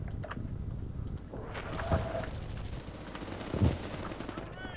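Gunfire rattles in a Medal of Honor (2010) multiplayer match, with scattered shots and short bursts heard at a distance over a steady game background.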